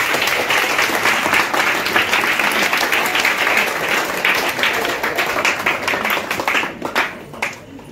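An audience at a Teacher's Day celebration at Approach Tutorial, Khandapada applauds loudly and continuously, dense clapping that fades away in the final second.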